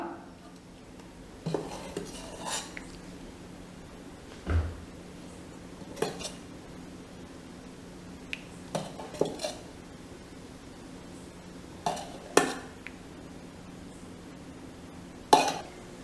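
Metal idli pans and utensils clink and clatter in scattered bursts, a dozen or so sharp knocks spaced apart over a quiet room hum.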